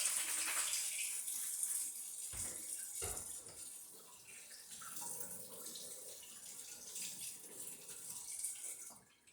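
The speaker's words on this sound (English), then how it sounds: "clean it one more time with star sand and hot water so I can put it back in its protective sleeve" Hot water runs from a tap over a hydrometer being rinsed with Star San sanitizer, a steady gushing splash with brief interruptions, close and fairly quiet.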